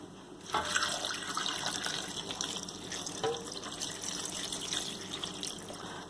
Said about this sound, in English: pour 3 cups of water over it.